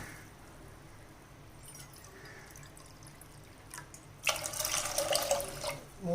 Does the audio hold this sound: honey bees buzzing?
no